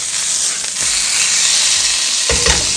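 Homemade Italian sausage sizzles steadily in a hot pan, a continuous close frying hiss with a brief stir or shift of the meat near the end and no talking.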